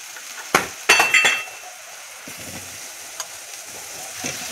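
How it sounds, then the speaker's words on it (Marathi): Chopped capsicum, potato and brinjal drop into simmering gravy in a pan, giving a few sharp clattering splashes and sizzles up close, then a quieter bubbling and stirring with faint clinks. "याच्यामध्ये आता आपण जी डोबळी मिरची, बटाटा आणि वांगी कापून घेतलीत ना त्या टाकून देऊ।"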